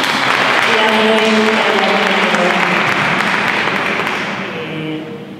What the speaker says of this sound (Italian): Grazie, un applauso ancora.